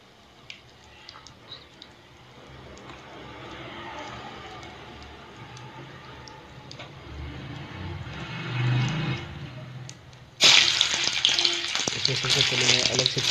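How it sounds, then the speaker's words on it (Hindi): Whole spices fry in hot oil for an egg curry. A low background murmur gives way at about ten seconds to a loud, steady, close sizzle that lasts to the end. "तो सबसे पहले तेल है लिया मैंने, उसमें जो खड़े मसाले हैं वो डाले"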